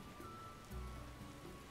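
Steady rain downpour in The Witcher video game, a dense even patter on surfaces with a slight swell midway, no voices.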